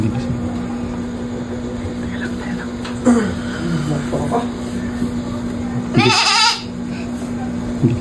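A goat bleats loudly once near the end, with quieter animal calls earlier over a steady background hum and low voices.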